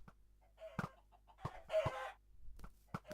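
Minecraft chickens falling from the sky let out several short, quick clucks in a loose burst, fairly faint against quiet game background.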